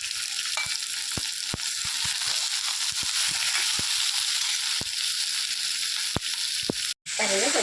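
Ginger, garlic and coriander frying in a pan for paneer masala, a steady close sizzle with occasional spatula scrapes and taps, plus a brief cut near the end.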